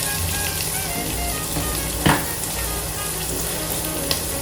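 Onions frying in a pan for a Southern dinner sizzle loudly and steadily up close, with a brief clatter of a utensil midway and a small tap near the end.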